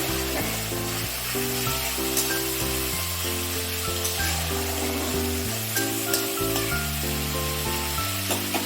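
Spice masala frying in a pan for a pomfret dish, a continuous hissing sizzle running steadily beneath louder background music with a bouncing bass line.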